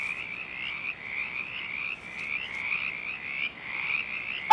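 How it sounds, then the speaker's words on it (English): A chorus of frogs croaks continuously in a repeating, pulsing rhythm, steady and moderately loud with no other sounds. "Oh, Henry, where did all these frogs come from? They're everywhere."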